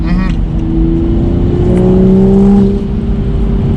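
A tuned, straight-piped Toyota Supra engine revs up loudly and steadily nearby, the pitch climbing and holding with a throaty roar.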